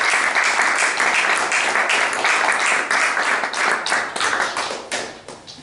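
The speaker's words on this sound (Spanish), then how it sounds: "Un aplauso." An audience at a book presentation bursts into sustained clapping, dense and fairly loud, tapering off toward the end with no voices over it.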